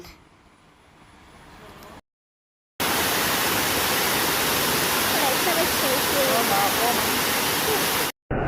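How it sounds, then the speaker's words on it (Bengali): Waterfall in Meghalaya near Mawlynnong village, a loud steady broadband roar of falling water that fills about five seconds after a quiet opening stretch with softer ambient sound, then cuts off abruptly. "মেঘালয়ত আমি প্ৰথমটো ঝৰ্ণা চালো"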